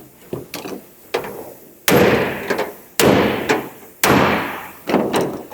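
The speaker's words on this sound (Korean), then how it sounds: "지금 이 상태에서 제가 한 번 5원마로 때려 보겠습니다" A welded car body panel is struck repeatedly with a hammer during accident repair: a series of loud, sharp metallic bangs at an uneven pace, several heavy blows ringing out close by with no talk.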